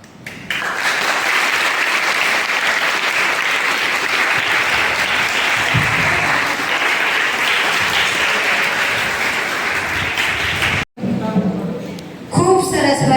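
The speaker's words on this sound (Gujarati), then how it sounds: "ફરીવાર તે ભાઈ માટે જોરદાર તાળી." Loud, sustained applause from a crowd at a school Independence Day program, cheering a student performer; steady clapping fills the stretch before a brief cut, then voices and clapping resume.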